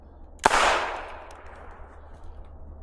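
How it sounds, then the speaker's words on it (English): A gundog dummy launcher fires a single sharp crack, loud and close, followed by a fading whoosh as the dummy is thrown during a retrieve training session. "So we're gonna pop our launcher out, our launcher dummy first."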